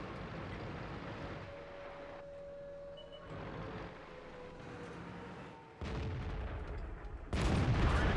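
Tank cannon and artillery fire sound out in a tank combat video game, with a continuous engine rumble that swells into louder heavy blasts toward the end.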